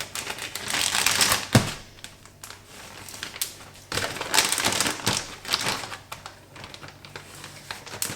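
Marinating food shaken inside a zipped plastic bag gives irregular bursts of crinkling and rustling plastic with soft thumps, loud and close, and no talk.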